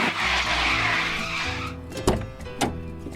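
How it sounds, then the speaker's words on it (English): A car pulls up with a whooshing rush of motion that fades, followed by a couple of sharp thuds and engine tones, moderately quiet and without talking. "Folks, I think that's Philippe de Bourbon's car."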